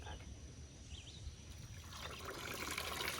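Freshly washed sheep's wool being rinsed in water, a soft continuous trickling and sloshing that grows fuller and louder toward the end, with no talk.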